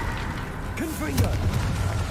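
Confringo blasting spell in the Hogwarts Legacy video game: a short, loud booming burst over a rumbling combat background, with a brief spoken voice mixed in.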